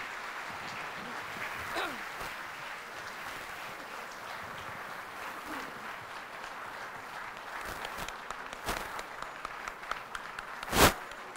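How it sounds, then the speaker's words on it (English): Audience applause for a keynote speaker, Senator Richard Gordon, at a formal speaking event, heard as a steady, fairly faint wash of clapping across the room with a brief louder burst near the end. "please give a round of applause to our keynote speaker, Senator Richard Gordon"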